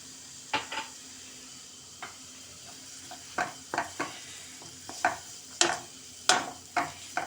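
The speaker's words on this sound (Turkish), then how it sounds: "Soğanlarım yeterince kavruldu." Low sizzle of onions frying in oil under repeated metallic scrapes and clinks of a utensil stirring in a pan, irregular and close.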